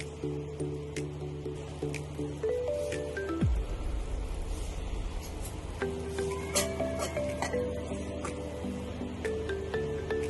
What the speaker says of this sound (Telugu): ఇప్పుడు ఇందులో మనం ఫ్రై చేసుకున్న దొండకాయలు వేసేసుకుందాం.